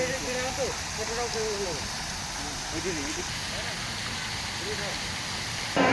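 Water pours steadily at a waterfall in a zoological park, a continuous broadband rush throughout, with people talking over it.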